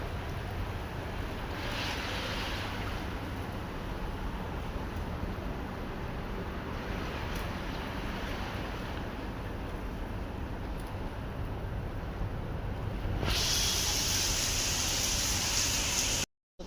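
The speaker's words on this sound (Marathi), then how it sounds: "हे बघा पाणी बघा कसं खाली येतं आहे बघा. पाऊस मस्त पडतो आहे बघा." Heavy morning rain pours steadily down beside a building's parking area, a dense continuous wash of falling water that stays loud throughout and brightens into a harsher hiss near the end, with no talking.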